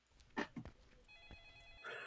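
An in-game telephone rings in a Roblox horror game, bright repeated bell tones heard faintly through the game audio along with a few short sounds before them.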